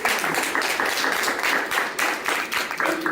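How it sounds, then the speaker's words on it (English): A crowd applauds, a steady patter of many hands clapping at moderate loudness throughout. "let's give them a round of applause"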